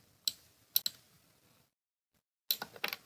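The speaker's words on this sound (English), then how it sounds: "by pressing Ctrl plus on the keyboard" Keys struck on a computer keyboard while pressing a Ctrl-plus shortcut in spreadsheet work: a few sharp, close clicks in two short bursts separated by a silent pause.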